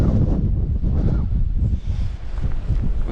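Relentless strong wind on a steep mountain path of the Pen y Fan Horseshoe, pounding the microphone in loud, uneven gusts with a constant low rumble and no voices.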